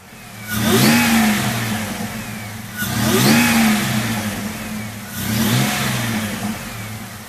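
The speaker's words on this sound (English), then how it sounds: "You can actually really hear the supercharger a lot better." Supercharged car engine with an electric fan revved three times in succession, each rise carrying a whining supercharger pitch that climbs then fades back toward idle.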